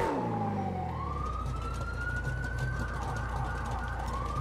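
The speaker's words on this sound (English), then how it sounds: "Oh, there's an ambulance" An ambulance siren wails in a roleplay video game, a steady rising and falling tone over a constant low engine rumble, close and loud throughout.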